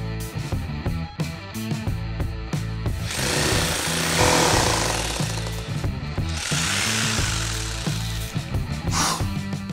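Power drill with hammer action boring into plaster, a loud rapid rattling hammer with high grinding whine, running in two long bursts with a short pause and a brief final spurt.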